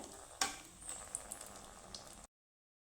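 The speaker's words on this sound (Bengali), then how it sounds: "দুটো শুকনো লঙ্কা দুটো তেজপাতা টুকরো করে দিয়ে দিলাম তো শুকনো লঙ্কাটা একটু লাল করে ভেজে নেব" Dried red chillies and torn bay leaves fry in oil for a vegetarian taro-leaf dish, a faint, soft sizzle opening with one sharp crackle, then scattered small pops before cutting off.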